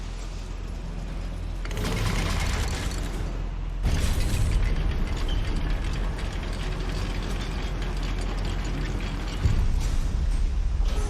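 Goblin mine lift mechanism in Hogwarts Legacy grinding and clanking continuously, with loud ratcheting gear noise and a heavy jolt partway through, no talk.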